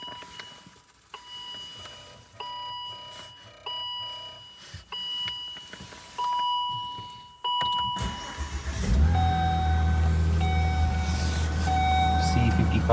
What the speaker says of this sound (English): We'll go ahead and give it a quick start up here.